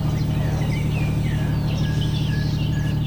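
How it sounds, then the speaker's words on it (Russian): Nightingales and frogs calling at night beside a river on a cruise along the Oka, a dense steady chorus of croaking frogs beneath bright warbling and whistling bird song, loud and close. "вот эти неугомонные соловьи и лягушки мне весь круиз мешали спокойно засыпать"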